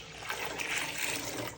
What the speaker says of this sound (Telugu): చూడండి, దాంట్లో వాటర్ కూడా పోసుకోవాలి